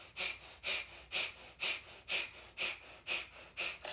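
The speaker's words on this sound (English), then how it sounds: "So when you're ready, go ahead and begin your breath of fire" Rapid, forceful breath of fire through the nose during a Kundalini yoga kriya, eight sharp rhythmic exhalations in steady pulses, close and clear with no talking.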